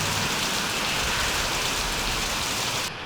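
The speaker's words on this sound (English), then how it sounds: "Maybe the procedure in the rain is different than the procedure without the raining." Steady, dense rain hiss fills the cockpit in the Falcon 4 Allied Force flight simulator, a constant close wash of rainfall with no voices, cutting slightly at the very end.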